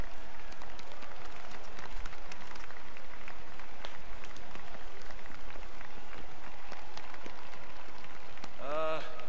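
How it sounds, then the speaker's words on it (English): Crowd applause at an award ceremony in the video game Marvel's Spider-Man, a steady, dense wash of clapping and cheering that runs throughout at a constant level. "Everybody applaud him from your end."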